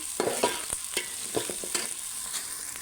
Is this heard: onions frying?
yes